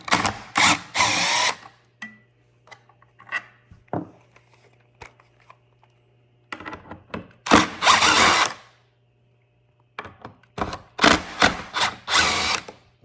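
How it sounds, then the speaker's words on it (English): A power drill whirs in several short bursts, unscrewing screws during steering wheel removal on a 2024 Tesla Model 3, separated by pauses filled with small clicks and handling of parts. "just unscrew them with a screwdriver head or a power tool"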